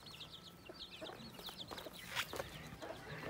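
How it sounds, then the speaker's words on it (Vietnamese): Chickens raised on a Hmong village farm cluck in soft, scattered bursts at a moderate distance, with faint bird chatter and a light background hum and no talking. "Rất nhiều gà mọi người ạ."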